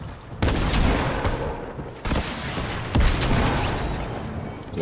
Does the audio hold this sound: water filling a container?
no